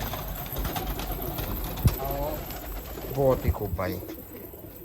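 Nishawar pigeons being released by a keeper coo and flutter in short bursts on a rooftop, mid-distance and modest in level, mixed with a man's brief speech and a sharp knock.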